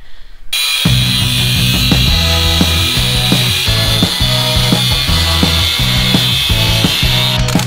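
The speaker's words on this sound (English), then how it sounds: "So we're going to start cutting this out of that" A power saw cuts through a 2x6 wooden board in a build workshop. It starts abruptly and runs loud and close with a steady buzzing whine, with rhythmic pulses repeating as the blade bites into the wood.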